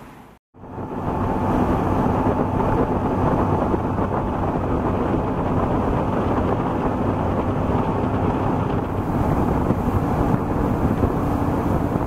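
A 750-horsepower boat engine cruising up the Potomac River, a loud, steady, broadband roar with rushing wind and water that starts abruptly and holds unbroken throughout, with no voices.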